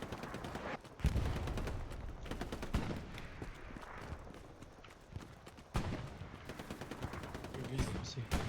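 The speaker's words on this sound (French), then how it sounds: "Ça tire depuis l'église." Rapid gunfire from a Hell Let Loose infantry battle, with bursts and single shots cracking in close succession across the whole stretch, some loud and near, others farther off, under occasional voice chatter.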